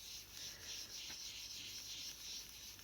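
A brush rubs violet Distress Ink onto a card background over a plastic work surface, with soft, rhythmic scratchy strokes, quiet and close, with no talking.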